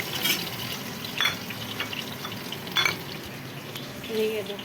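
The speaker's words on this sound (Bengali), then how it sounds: "এদিকে দেখো মাছ ভাজা হয়ে গেছে। আর এই ভাজা ভাজা করে তাহলে মধ্যে ভেজে রাখছি।" Fish frying in a pan gives a soft, continuous sizzle close by, broken by a few short louder spatters and a light scrape of a utensil.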